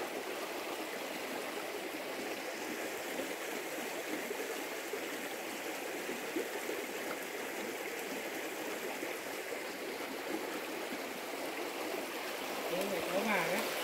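A mountain stream, Suối Nhiệm at Sủng Trái in Đồng Văn, Hà Giang, known for its hot and cold currents, flows with a steady, even broadband rush and trickle throughout, with no voices.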